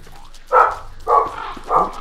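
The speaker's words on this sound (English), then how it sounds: "And there goes my dog." A dog barks three times at a steady pace in the video game Don't Starve, each bark loud and close, with no talking over it.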